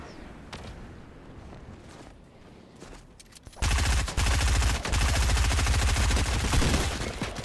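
Rapid gunfire from a pistol in a video game bursts in loud and dense after a few quiet seconds of faint background noise, continuing as a sustained clatter to the end.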